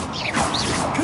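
Revelio spell cast in Hogwarts Legacy on PS5, a dense shimmering magical whoosh with swirling bright tones and a steady wash of game effects throughout the short burst.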